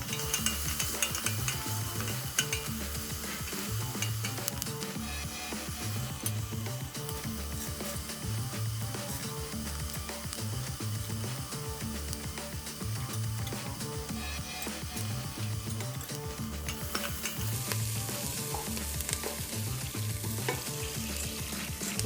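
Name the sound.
non-dairy butter melting and sizzling in a pot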